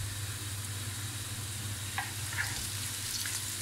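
Onions with garlic and ginger frying in a pan, a steady close sizzle with a low background hum and a couple of faint clicks, no talk.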